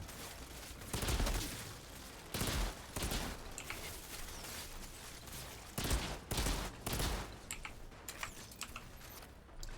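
Auto sniper rifle firing in the video game Outriders, several loud bursts of rapid shots separated by short pauses, heard alone without talking.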